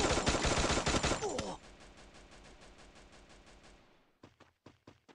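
Rapid bursts of automatic gunfire from a video game match crackle loud and dense at first, then continue more quietly as a steady rattling stream, ending with a few separate sharp shots.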